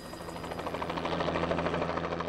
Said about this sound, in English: Our helicopter hovered briefly above the 100-foot-high Lewitt Falls before setting down on the north end of the crater.